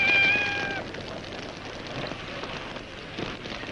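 A cat meows a few times close by, a short drawn-out cry near the start, over a steady patter of rain and faint background noise.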